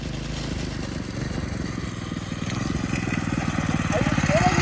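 A wide one-person jalopy go-kart's small engine running during a test drive, a steady buzzing putter that rises in pace and loudness as it revs, with a voice talking over it.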